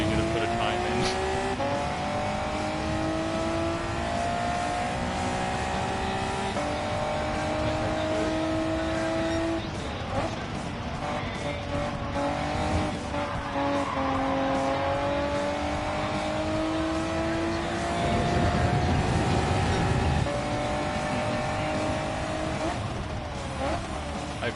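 Race car engine in a racing video game revving and shifting through gears, a loud, near whine that climbs and drops repeatedly, with brief tire squeal, alone without talk.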